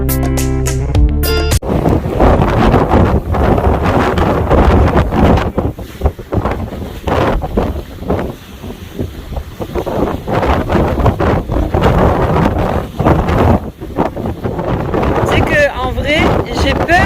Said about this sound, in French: il y a tellement de vent que j'ai peur de faire tomber mon téléphone